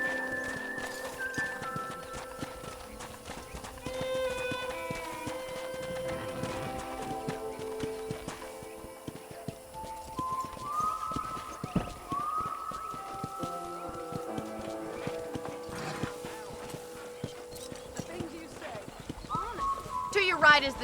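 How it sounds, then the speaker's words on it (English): Horse hooves clip-clop steadily during a ride in the video game Red Dead Redemption, set against a musical score, with a voice speaking over the ride. "let's see if you can still ride a horse"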